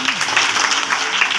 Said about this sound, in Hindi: ताली बजा जोर से।